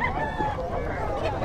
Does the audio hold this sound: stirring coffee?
no